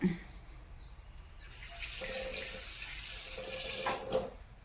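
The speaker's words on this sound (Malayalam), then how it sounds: "പാകത്തിന് കുറച്ച് വെള്ളം പാർന്ന് വെക്കുക" Water runs and splashes steadily for several seconds, a close, continuous gush like water pouring into a vessel, with a soft clink near the end.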